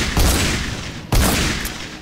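Weapon fire in the video game Fortnite Save the World: two loud, close bursts of shots about a second apart, each with a sharp attack and a fading rumbling tail, with no voices.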